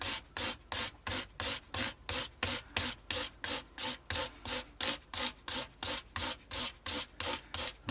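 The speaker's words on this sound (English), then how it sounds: "I'm looking at each fret as I'm working them, making sure they all start at the same level of first sand with the 600" 600-grit sandpaper rubs back and forth over the frets of an Epiphone SG guitar, a close, steady, rhythmic rasping of about two strokes per second that runs the whole time.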